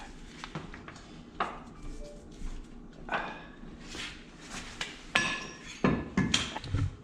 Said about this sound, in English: I just pulled the shaft out.